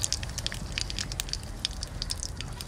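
Stingray fish fries in hot mustard oil with a close, busy crackle of small pops and spits over a low, steady sizzle.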